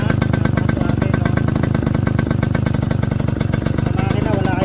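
A 1979 Yamaha YL2 motorcycle engine idles close by, its exhaust putting out a loud, steady, evenly pulsing putter with no break throughout.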